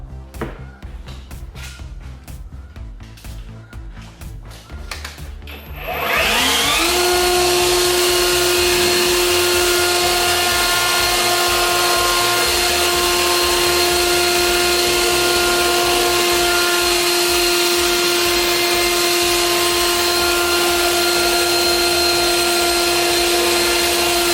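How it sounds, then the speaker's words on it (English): A leaf blower's loud, steady motor roar starts abruptly after a few seconds of quieter clatter, then runs continuously at full blast with a high whine, blowing water off a car. "let me get the blow dryer here, the leaf blower, blow off the rest"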